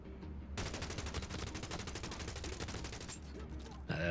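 Sustained automatic gunfire in the video game The Division Resurgence, aimed through a small gap in a fence: a steady, fast stream of shots over several seconds, fairly even in loudness, with a clear start and a sudden stop.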